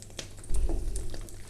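Chicken kachori deep-fry in hot oil, a steady close sizzle with crackling bursts that swell as the dough goes in, no talking over it.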